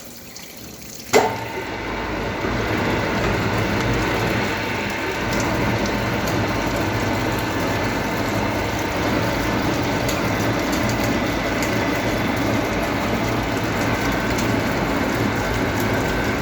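A thread cutting and rolling machine for rebar and round bar from 16 to 40 mm starts with a sharp clunk, then runs with a steady, loud mechanical whir and grinding hum that holds without a break.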